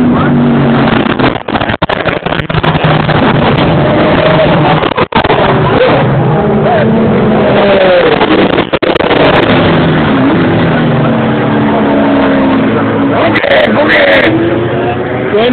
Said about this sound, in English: That's the turbo.